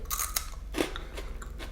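Crisp, close crunches and bites come from a shrimp-flavoured cracker from a Japanese snack box being chewed, with a few sharp cracks over a quiet background.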